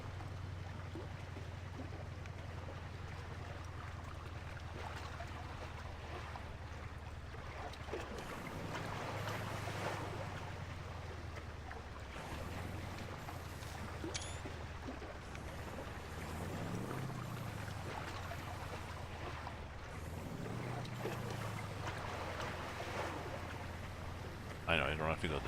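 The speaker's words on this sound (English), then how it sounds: "Listen to the water." Flowing water and river ambience in Euro Truck Simulator 2, driving through Brazil: a steady broadband wash of running water with wind, low engine hum beneath, continuous and moderately loud throughout, with a voice talking over it.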